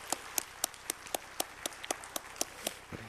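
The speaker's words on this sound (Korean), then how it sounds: "사랑부 위에서 뜨거운 박수로 감사하십니다." A church congregation clapping in thanks, a quick, steady rhythm of sharp, evenly spaced claps, moderately close and fairly quiet.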